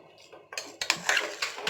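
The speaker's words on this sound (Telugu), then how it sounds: "మెత్తగా మ్యాష్ చేసుకోవాలి." Cooked filling for Andhra bobbatlu is mashed in a metal pot, with scraping and clinking of a utensil against the pot in short, close, irregular strokes.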